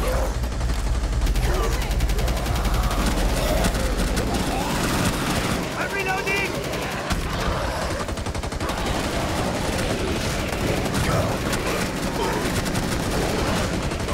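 Rapid gunfire rattles in the video game Rainbow Six, with dense bursts of automatic shots continuing throughout, loud and close, and voices talking beneath.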